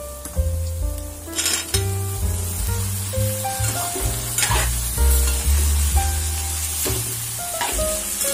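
Chopped pointed gourd (parwal) sizzles loudly in a hot pan with cumin and chopped onion, a steady frying hiss broken by repeated scraping stirs and clinks of the spatula against the metal, close and continuous with no talking.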